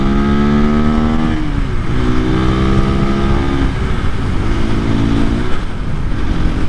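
A 2024 KTM EXC-F 500 Six Days dual sport motorcycle accelerates hard through the gears, its engine note rising in steps with brief dips at each shift, loud and close with wind rush, its front wheel lifting.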